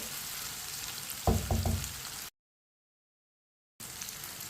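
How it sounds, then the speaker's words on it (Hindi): Okra with tomatoes and green chilli sizzles steadily in a frying pan, with a quick run of spoon knocks from stirring partway through, then a brief total silence before the sizzle returns. "2 मिनट के लिए टमाटर और सब्ज मिर्च को मैंने पका लिया है चम्मच चलाते हुए"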